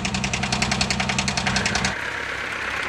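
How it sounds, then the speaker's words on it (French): A worn car engine idles with a rough, rhythmic knocking clatter for about two seconds, then cuts to a lower steady rumble. "juste à écouter le son du moteur, ça parle de lui-même"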